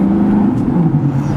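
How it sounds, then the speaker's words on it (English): Engine of a cheap, high-mileage supercar, still not fully warmed up, holds a steady, close, loud droning tone with a slight wavering pitch, heard alone for a brief moment. "Listen to this car"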